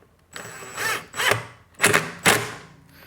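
A power driver tightens a screw into a headlight bracket mount while a DTM-style halo headlight upgrade is installed, heard as four short whirring bursts with brief pauses between them, close and fairly loud.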